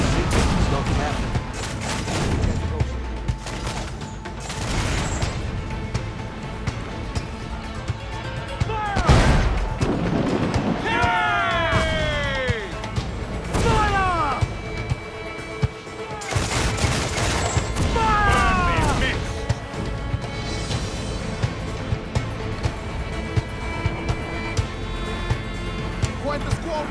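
Ship cannons fire during a naval battle in Assassin's Creed 4: Black Flag, loud booming blasts and crashes scattered through a busy mix of shouting voices, wind and battle noise, with one especially heavy salvo near the middle.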